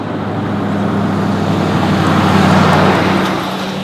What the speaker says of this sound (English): we got a truck coming